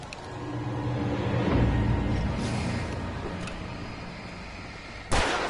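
Gunshots in Alan Wake Remastered at a gas station, a few booming reports rolling out against a dense rumbling game background, with one sharp, loud blast near the end.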